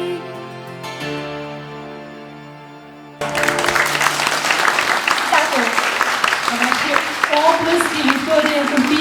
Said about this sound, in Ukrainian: Аплодуємо, аплодуємо ще, ще, ще гучніше.